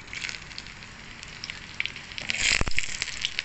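Ginger and garlic sizzle in a hot pan for chicken tinola, a quiet crackling fry that grows louder and busier near the end with sharp pops, no voices.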